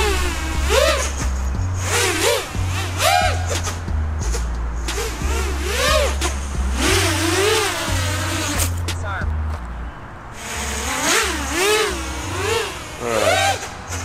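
A freestyle FPV drone fitted with wooden propeller blades buzzes and whines loudly in the open air, its motor pitch swooping up and down in quick surges as it maneuvers, with someone talking briefly over it.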